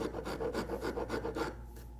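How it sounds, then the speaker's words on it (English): A tenon cutter works the end of a wooden stool stretcher, making a rhythmic rasping scrape of about six strokes that fades out at the end. "Then we're going to take a special tenon cutter"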